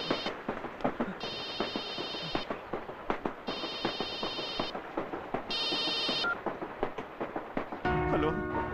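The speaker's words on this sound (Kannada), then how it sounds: "ಸರ್, ನಿಮ್ ಫೋನ್ ರಿಂಗ್ ಆಗ್ತಿದೆ." A phone ringtone plays in repeated bursts during a film scene, interrupted by a different electronic tone near the end, over a noisy busy background.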